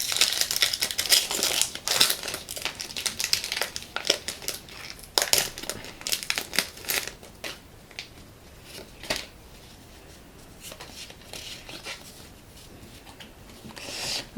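Crinkly plastic wrapper of a Pokémon XY9 Breakthrough (Rupture Turbo) card booster pack being torn open and handled up close, with bursts of crumpling and rustling that thin out toward the end.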